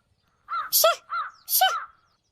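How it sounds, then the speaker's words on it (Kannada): Crows caw close by, two pairs of harsh, ragged calls in quick succession against otherwise quiet surroundings. "ಇಷ್ಟು ಹತ್ರಕ್ಕೆ ಬಂದ್ರೆ ಹೆದರು ಓಡೋಗಲ್ಲ ನೋಡಿ ಕಾಗೆಗಳು"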